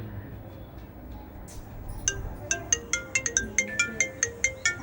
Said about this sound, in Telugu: అమ్మ కాల్ చేస్తుంది